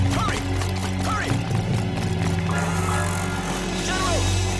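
Horse hooves beat in a fast gallop through a historical Chinese drama scene, a steady drumming patter under a dense, busy mix with a few brief voices.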